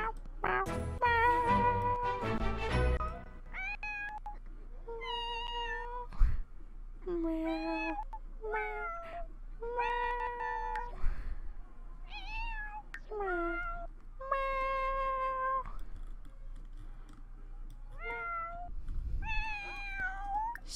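Cats in The Sims 4 meow repeatedly in a quick series of clear, mid-level calls, with a soft voice and game ambience underneath.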